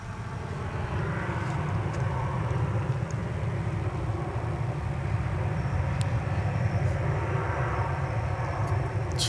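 American Airlines Airbus A321 at Dallas/Fort Worth International Airport, a steady, loud jet engine roar holding level throughout with a broad low rumble, as from an airliner close by on the ground or taking off.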